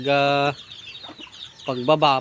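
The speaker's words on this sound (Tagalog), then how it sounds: "Ito pa yung mga alaga nating mga manok, panabong" Native fighting cocks on a small farm let out loud, drawn-out nasal calls close by, one long call, then a quiet gap with faint rustling, then two more strident calls in quick succession.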